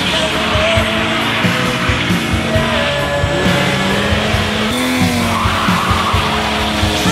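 A rally car drifting at the Valmorea 7 Curve Drift & Rally Show in 2016, with loud, continuous tire squeal over a roaring engine that rises and falls, heard close up throughout.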